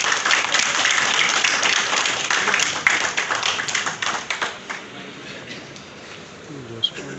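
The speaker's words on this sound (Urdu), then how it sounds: "تالیاں بجا رہے ہیں" An audience at a book launch ceremony claps steadily for several seconds, then the applause thins out and fades into quieter room noise with scattered taps.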